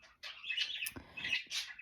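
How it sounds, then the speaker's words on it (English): Indoor pet birds chirp and tweet loudly in quick bursts of shrill calls, close by, with a brief flutter partway through and no talk. "These birds are going crazy"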